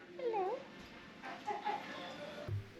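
A cat in a New York cat café meows once, a short, wavering cry up close, followed by a fainter, brief call against a murmuring indoor background.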